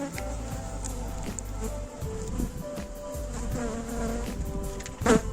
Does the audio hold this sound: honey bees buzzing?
yes